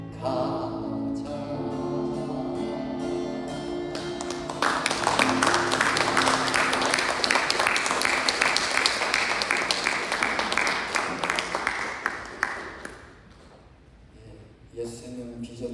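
A church congregation bursts into loud applause after a sung passage during a Sunday service. The clapping swells and holds for several seconds, then fades out as a voice resumes.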